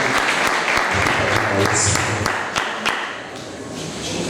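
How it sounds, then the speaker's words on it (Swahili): A crowd at a church youth rally applauds to welcome volunteers, with loud, sustained clapping, sharp individual claps and a brief whistle rising above it. "tusikie makofi tunapokaribisha wachama"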